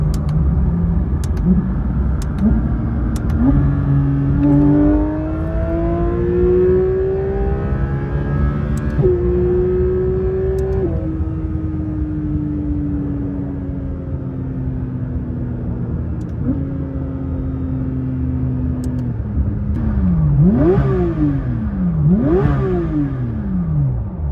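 A Porsche 992 GT3 RS engine revs repeatedly in manual mode, rising through gears with rapid shifts, then settles before several sharp throttle blips near the end, loud and close.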